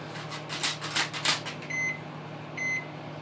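A microwave oven hums steadily while several soft clunks sound near the start, followed by two short high electronic beeps about a second apart.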